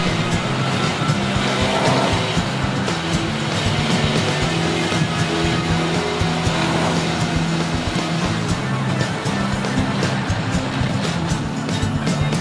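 A Ford Edge with a V6 engine and optional all-wheel drive strains to climb a hill, its engine droning steadily and loudly throughout, with no clear revving peaks or drop-offs.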